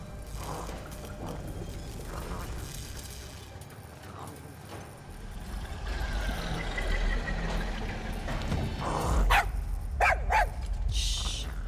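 A dog in the video game Far Cry 6 barks several times over clanking, ratcheting mechanical game noises, the barks sharp and fairly close amid a busy, rising background.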